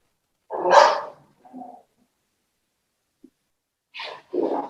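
A dog barks twice in the background of a conference call, one loud bark followed by a short softer yelp, then a gap of silence before two more barks near the end.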